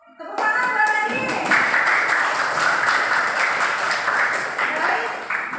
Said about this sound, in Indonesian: tepuk tangan buat Adit.